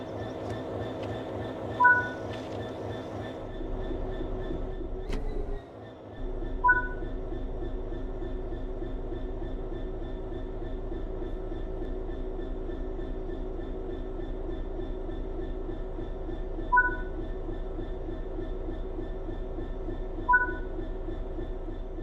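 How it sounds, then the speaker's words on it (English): A train in the Train Sim World 3 simulation rumbles steadily with a low engine drone and wheel noise, with a brief clunk and pause early on, then continuous running broken by periodic short beeping tones. "Let's get the train moving and see it all working."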